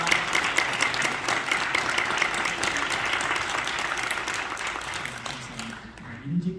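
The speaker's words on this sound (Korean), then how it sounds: "박수로 한번 크게 축하해 주시기 바랍니다." A congregation at a Korean Presbyterian presbytery meeting applauds newly ordained pastors, steady hall-wide clapping that thins toward the end as a voice begins.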